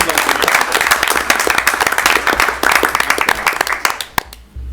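At a city council meeting, the audience applauds a proclamation with loud, close, dense clapping that carries on steadily for several seconds before tapering off into a few scattered final claps.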